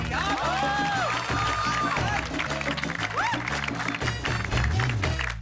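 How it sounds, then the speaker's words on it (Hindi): Audience applause on the set of a Hindi TV comedy show honouring Amitabh Bachchan, a loud continuous roar of clapping over background music, with voices briefly rising above it. "बहुत बहुत ताली बजा इनके लिए जी"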